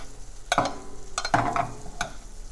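Wild-caught halibut sears in a hot pan while being basted, with a steady sizzle and several sharp spoon scrapes and splashes.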